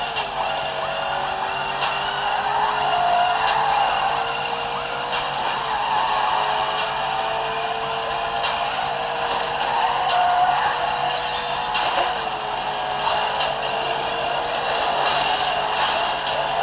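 Racing car engines and tire squeals from the Need for Speed video game, played on a realme 6 phone speaker: steady loud engine drone with rising and falling pitch sweeps and repeated skids, continuous throughout, no talk.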